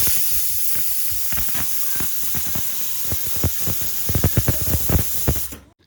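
A pressure cooker cooking beef lets out a steady, loud hiss of steam with faint ticking and rattling beneath it, the clicks growing busier toward the end before the sound cuts off abruptly.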